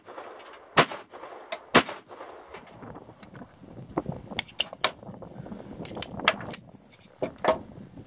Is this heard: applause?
no